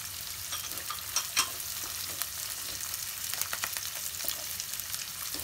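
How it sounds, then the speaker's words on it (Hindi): Garlic and ginger frying in a pan give a steady, close sizzle with occasional sharper crackles and pops, unbroken for several seconds with no voices. "इसको कम से कम मैं 5 मिनट फ्राई करूंगी"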